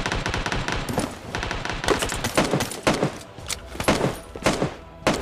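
Rapid M16 rifle fire in the mobile shooter BGMI: dense bursts of close, loud shots repeat in quick succession for the whole stretch.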